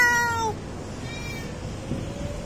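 Timmy, a pet cat on a 25th-floor building, lets out a clear, close meow at the start, then quieter background noise with a faint drawn-out cry.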